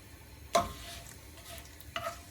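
Bay leaves fry in hot mustard oil, giving a faint, low sizzle broken by two sharp pops or crackles about a second and a half apart.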